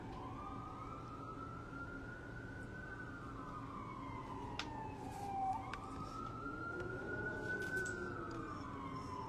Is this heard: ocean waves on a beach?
no